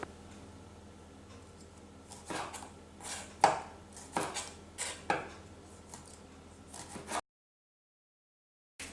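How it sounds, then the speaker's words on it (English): A knife slices a cherry tomato in half on a cutting board for a chicken salad, giving several soft, distinct chopping taps spaced irregularly, close and quiet, with no talking. "I'm gonna cut this cherry tomato into half"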